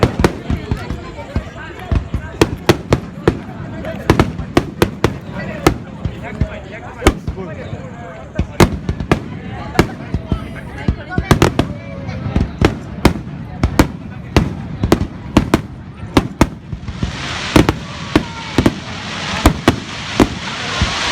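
Fireworks burst again and again at a crowded summer fireworks festival, sharp bangs and crackles arriving in rapid irregular volleys with a hissing crackle swelling near the end, while people talk excitedly throughout.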